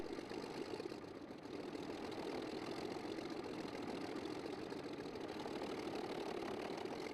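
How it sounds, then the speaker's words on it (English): A restored 1911 vintage railway engine runs steadily after starting, its deep, rumbling exhaust note continuous and loud throughout with a slight dip near the start. "the starter engages, and the engine responds with a deep, authoritative exhaust note"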